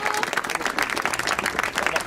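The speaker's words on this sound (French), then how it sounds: "je pense qu'on peut l'applaudir pour lui donner tout ce courage dont nous avons besoin" Crowd applause at a political rally in a French department, a brief burst of dense clapping that stays steady and fairly loud, with some voices mixed in.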